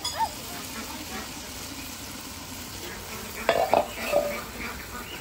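Bottle gourd curry with onions cooks in a pan over a village clay stove, with a steady low sizzle and a few clinks of a spoon stirring near the end.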